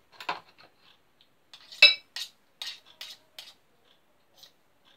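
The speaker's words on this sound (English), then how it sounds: "I'm just going to use a fork to blend the margarine." A fork scraping and clinking against a bowl while blending margarine for a simple cake batter, a handful of short, sharp metallic taps spaced irregularly in otherwise quiet surroundings.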